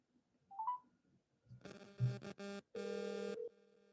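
An outgoing call placed through an Amazon Connect cloud call center produces a few soft electronic tones, then a run of buzzy ringback tones, faint and close, with no one talking.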